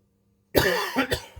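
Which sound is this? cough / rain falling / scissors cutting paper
cough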